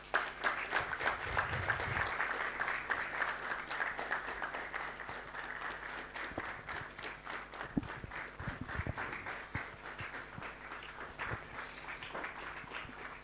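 An audience at a university innovation-week event applauds as a guest comes on stage, a long, steady patter of many hands clapping at moderate distance, with scattered louder thumps and knocks mixed in.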